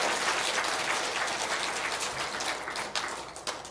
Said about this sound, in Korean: 우리 좋으신 하나님께 영광의 박수 한번 올립시다.